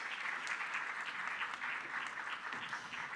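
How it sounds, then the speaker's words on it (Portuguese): Applause fills a hall at a Brazil–Chile agriculture and sustainability forum as the Salmon Council president is welcomed, an even, continuous patter of many hands, fairly distant and soft. "Un aplauso para Loreto."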